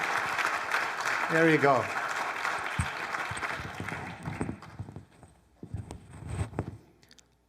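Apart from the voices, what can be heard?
audience clapping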